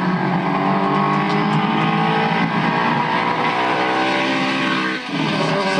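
On a cold day, a vehicle engine that seems to need new spark plugs drives past, a loud, steady, rough roar that shifts slightly in pitch as it goes by, close and continuous, with no talking.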